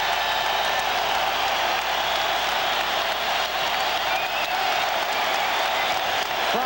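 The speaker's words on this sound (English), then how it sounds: "Crowd here at Chicago Stadium roaring its appreciation as the Bulls take the court" Stadium crowd at Chicago Stadium roaring and applauding as the Bulls take the court for Game 6 of the 1992 NBA Finals against Portland, a loud, dense, continuous wall of cheering and clapping.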